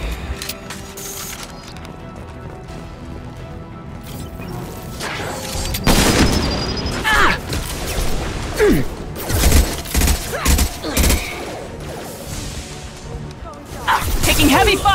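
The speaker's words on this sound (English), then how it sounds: "Taking heavy fire!" Gunfire and explosive crashes from the sci-fi shooter Mass Effect 2, bursts of shots with heavy booms and whooshes, loud and dense in the second half, mixed with game voices.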